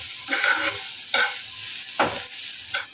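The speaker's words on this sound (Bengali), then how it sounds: "পেঁয়াজ আদা রসুন বাঁধাকপি সব দিয়ে দিয়েছি দিয়ে হাই ফ্লেমে পুরো টপ করে নেব" Onion, ginger, garlic and cabbage are stir-fried over a high flame, with four sharp scraping tosses of a spatula in the pan over a low, continuous sizzle and no voices.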